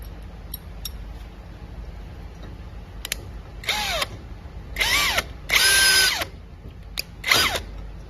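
Power drill driving screws into metal during assembly, several short whirring bursts of rising and falling pitch, close and distinct, with small clicks between them and no talk.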